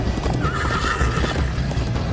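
Horse neighing with hoofbeats in the Minecraft: Story Mode video game, a steady whinny over continuous clip-clop during a gallop, fairly loud with no talk.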